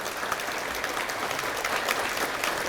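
At a memorial ceremony for the victims of Japanese military sexual slavery, a large audience gives sustained, even applause, a dense wash of many hands clapping throughout with no talking over it.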